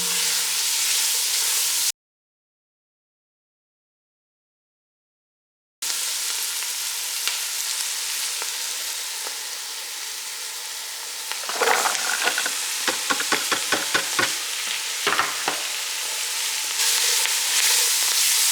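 Garlic sizzles in a pot for seafood and sausage gumbo with a steady hiss, broken by a short gap of silence and later a run of sharp spoon-on-pot clicks and stirring sounds.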